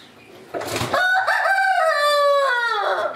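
Rooster on a small farm crowing once, a loud, close, drawn-out call that rises and then trails off over about two and a half seconds, preceded by a brief rustle.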